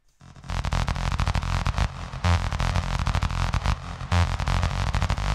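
A loud, gritty synth bass drones in a dense rhythmic pattern, noisy and buzzing, with a couple of brighter swells along the way.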